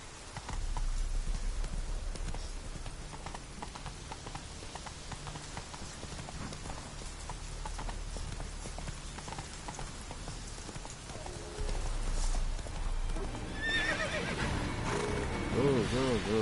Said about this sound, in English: Horses all over the place.